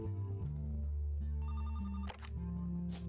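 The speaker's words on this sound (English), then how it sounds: "Phone's ringing." Telephone ringing in the video game The Roottrees Are Dead, a retro bell-style ring with a clear attack, playing over a steady bed of soft jazz music.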